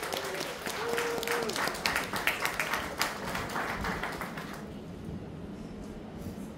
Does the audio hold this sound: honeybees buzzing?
no